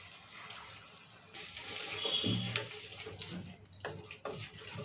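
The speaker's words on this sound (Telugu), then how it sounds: "ఇక మిక్సీలో కొన్ని వాటర్ పోసి పోస్తున్నా." Water poured into a mixer grinder jar while cooking masala paneer curry, a soft trickling splash that swells and fades over a few seconds, faint, with kitchen clatter and no talking.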